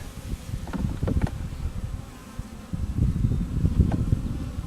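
Honeybees from a newly installed package buzz steadily close by, a low droning hum with individual insects flitting past, no voices.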